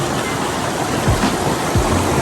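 A freezing snowmelt creek in the Blackhead Range after a spring snowstorm rushes steadily in a dense, even wash of flowing water with no voices.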